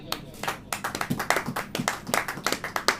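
A congregation at a church service claps hands in a quick, roughly regular rhythm, with sharp individual claps repeating throughout, some overlapping.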